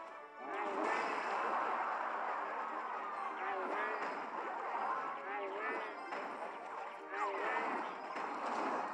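A bomb explodes in the mobile strategy game Clash Royale, heard as repeated booming blasts and battle effects under a steady stream of excited talk from a player.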